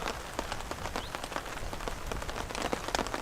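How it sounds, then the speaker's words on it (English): Rain falls on a pond, a steady dense patter of drops striking the water surface, with no voices. "Nice shots of the rain hitting the water."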